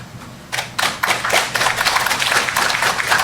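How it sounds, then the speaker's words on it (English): A crowd at a Ghana decentralisation address claps in a sustained burst, building from a few scattered claps into a fuller, even patter that carries on moderately loud with no voice over it. "I know you didn't clap very loud"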